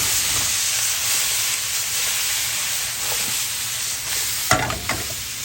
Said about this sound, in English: We're going to add our onions, garlic, jalapenos, and serranos.